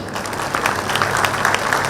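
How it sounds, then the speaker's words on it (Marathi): An audience at a district council society general meeting claps loudly, a dense burst of applause filling the whole moment. "एकदा उद्धव दादासाठी टाळ्या वाजवा, जोरात जोरात"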